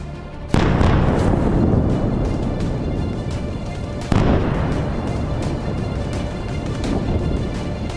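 Two loud, booming bomb blasts in Beirut, Lebanon, the first near the start and a second midway, each followed by a long rumbling roar that slowly fades.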